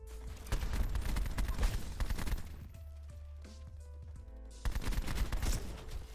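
Assault rifle fire in Call of Duty Black Ops 4: rapid automatic bursts crackle loudly, pause for a quieter stretch of game sounds, then resume in another burst.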